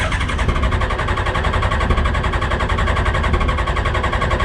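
A Smart car fitted with a Suzuki Hayabusa motorcycle engine runs steadily at a track day, a loud, continuous close-up engine drone with no talking over it.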